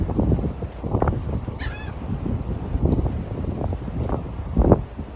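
Birds call out in short honking bursts over steady wind noise, several cries scattered across the stretch, one louder near the end.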